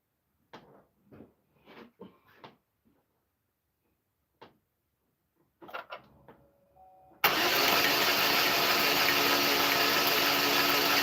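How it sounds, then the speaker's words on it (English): A 2012 Chevy Equinox 2.4-liter engine with a crank-but-no-start, no-compression fault. After a few scattered faint knocks and clicks, loud continuous even cranking kicks in abruptly and runs to the end without catching. "now we're gonna swing the engine, guys, and you gotta hear what I'm hearing."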